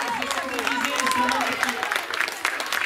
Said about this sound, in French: Donc ça concerne les prix enfants, vous pouvez les applaudir.